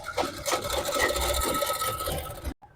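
A sewing machine stitches a waistband belt onto palazzo trouser fabric in a rapid continuous mechanical whir with a rasping needle rhythm, close and loud, stopping abruptly at the end.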